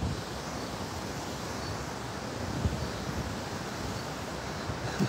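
Strong typhoon wind from Typhoon Maysak blowing at the sea, a dense roaring rush buffeting the microphone with surf-like noise, steady and loud throughout with occasional low thumps and no voices.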